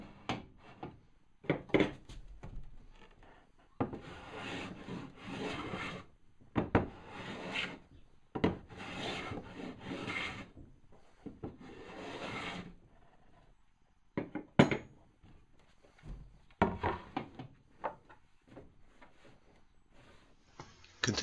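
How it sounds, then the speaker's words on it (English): Hand plane shaving the edges of wooden boards being fitted for a rubbed glue joint, irregular close strokes and scrapes with pauses and a few wooden knocks between passes. "Continue this process of planing in the high spots until there are no gaps between your boards."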